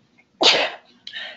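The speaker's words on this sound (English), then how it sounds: "Excuse me, I'm just about to sneeze." A single sharp human sneeze bursts out loudly and close, followed a moment later by a softer breathy exhale or sniff, with quiet around it.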